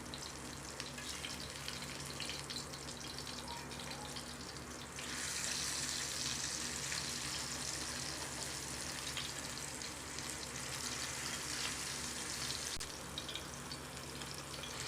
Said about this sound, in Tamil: இப்போது ஒரு சைடு நல்லா ஃப்ரை ஆகிருக்கும். நெக்ஸ்ட்டு சைடு நம்ம இப்போ திருப்பி வச்சிடலாம்.